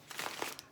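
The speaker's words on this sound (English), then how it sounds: "One more shuffle" Tarot cards shuffled by hand, a brief close burst of soft riffling and crinkling flicks, quiet and alone.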